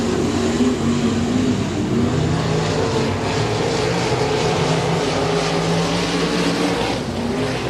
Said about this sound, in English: We got 3 cars racing for the lead.